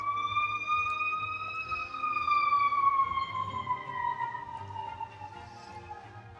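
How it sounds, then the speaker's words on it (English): Emergency vehicle sirens wail outside, a sustained rising-and-falling tone that is clear but somewhat distant and rolls on for several seconds. "Cool sirens outside."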